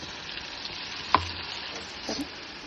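Onion paste frying in a pan for fish curry: a steady, quiet sizzle runs throughout, with one sharp clink of a stirring utensil and a second, softer stir scrape a moment later.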